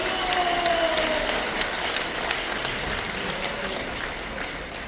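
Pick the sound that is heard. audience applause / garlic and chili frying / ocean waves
audience applause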